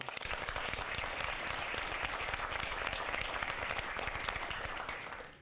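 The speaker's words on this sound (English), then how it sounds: "So a round of applause for those two." Sustained applause from an audience at a Kidspeak event, many hands clapping steadily and fairly loud throughout, with no talk over it.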